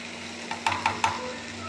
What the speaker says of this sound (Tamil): இந்த மாதிரி எல்லாத்தையும் கலந்து விடணும்